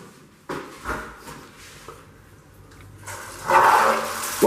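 Water bursts on from a shower in an ensuite bathroom after a few knocks and clicks of the fixture, then a loud hissing spray close by toward the end.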